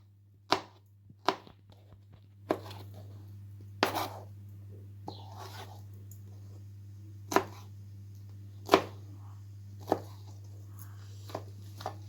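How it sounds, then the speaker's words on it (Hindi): A knife chopping peeled mango on a board for a fruit salad, with about a dozen sharp, separate cuts at an uneven pace over a steady low hum. "अब हम इसमें ये मैंगो काट लेंगे"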